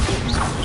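A Bombarda spell smashing in the video game Hogwarts Legacy, one short loud crashing impact with a thick low thud and crunchy debris-like texture.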